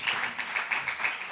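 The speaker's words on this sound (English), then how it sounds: "I think our excellent lawyers deserve another round of applause." Brief audience applause at a panel debate, a short burst of steady clapping from a crowd, moderately loud with no voices over it.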